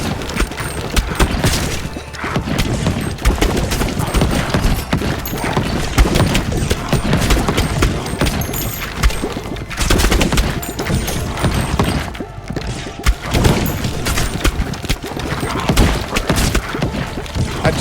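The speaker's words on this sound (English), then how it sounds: "I've just got a constant barrage of these slow-moving magma balls going up, pushing back all the enemies" Lasers and slow-moving magma balls fire in a constant barrage in the game Ball X Pit, a dense, continuous stream of thuds and crackles with no pauses.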